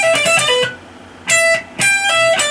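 A distorted electric guitar plays a short lick, a quick run of picked and pulled-off notes followed by two ringing phrases, loud and close with no talking.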